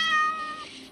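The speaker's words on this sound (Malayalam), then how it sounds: "പൂച്ചേ" A cat in the Minecraft video game gives a single short, clear meow that trails off within a second, heard alone without speech.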